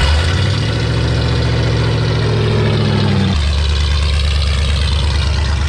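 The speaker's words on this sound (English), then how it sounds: "let's get a cold start here" A motorcycle engine cold-starts, turning over and catching, then runs at a loud, steady rough idle; partway through the pitch drops as it settles down.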